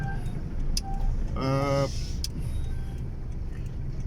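Car driving through the streets of Ouagadougou, Burkina Faso, a steady road and engine rumble throughout, with a brief harmonic whine or horn-like tone in the middle and light background city noise.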